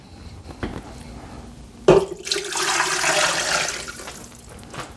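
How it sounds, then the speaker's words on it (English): A clunk, then ten cups of water pour steadily into an Instant Pot holding a chicken carcass, a close, rushing splash that continues for several seconds. "I'm going to go ahead and add in 10 cups of water"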